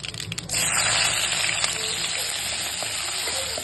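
Small shallots dropped into hot oil with popped mustard seeds for a village-style country chicken fry burst into a loud, steady sizzle after a brief quieter start, the frying hiss holding strong to the end.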